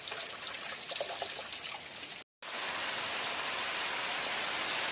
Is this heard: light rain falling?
yes